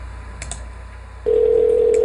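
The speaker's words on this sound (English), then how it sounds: "Oh, got a ringing." A telephone line gives a few faint tones, then a loud steady ring tone sets in and holds, alone without talk.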